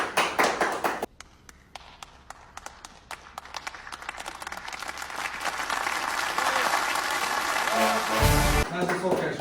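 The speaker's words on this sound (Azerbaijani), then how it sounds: "Özümüzün alqışlar." A small group claps and cheers at home after decorating a New Year tree. The applause starts after a brief burst of noise, then builds into steady, close clapping that lasts several seconds.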